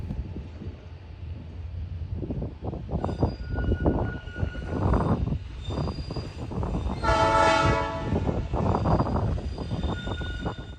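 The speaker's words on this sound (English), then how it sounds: "3142 was moving around on the electric line with its fair share of passengers" Electric train 3142 rolls along the electric line at the Illinois Railway Museum carrying passengers, a steady rumble of wheels and cars with a horn or whistle tone rising near the middle before the running noise carries on.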